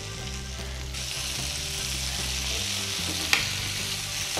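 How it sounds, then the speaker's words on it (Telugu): Potatoes and cauliflower frying in a pan for dhaba-style aloo gobi, a steady close sizzle with a low hum beneath and a sharp clink of stirring near the end. "దీన్ని ఇలానే ఒక 2 to 3 మినిట్స్ ఇలానే ఫ్రై చేసుకొని"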